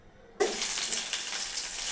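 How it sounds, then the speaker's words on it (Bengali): Potatoes dropped into hot oil burst into a loud sizzle after a short silence, then settle into a steady, close hiss of frying. "তেলের মধ্যে আমি আলুগুলো ভেজে নেব"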